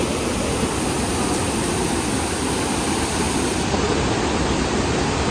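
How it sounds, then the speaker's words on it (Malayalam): A rain-fed roadside waterfall in the Kakkadampoyil hills roars as a steady, broadband rush of falling water, constant and loud with no pauses. "അടിപൊളി വെള്ളച്ചാട്ടത്തിൽ എത്തിട്ടാ."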